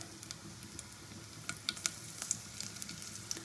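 Fennel seeds and slit green chillies sizzle in hot ghee, a soft continuous crackle broken by sharp scattered pops and spits, fairly quiet and close, with no voices.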